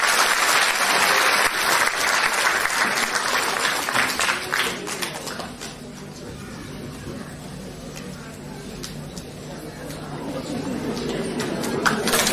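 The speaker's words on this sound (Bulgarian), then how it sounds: "Вашите аплодисменти!" Audience applause fills a hall at a tenth-anniversary concert of a Bulgarian folk singing and dance ensemble from Nessebar, steady dense clapping with a few faint chirps above, fading slightly midway then swelling again.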